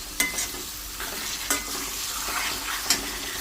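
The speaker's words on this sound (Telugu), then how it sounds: "ఇట్లా మటన్ వేసుకున్న తర్వాత ఒకసారి మంచిగా కలిపేసుకొని" Mutton pieces are stirred into onions frying in oil, a close steady sizzle marked by three sharp spatula scrapes against the pan.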